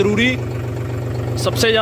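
A John Deere tractor engine with a dry-type air filter runs at a steady low drone while someone talks over it throughout.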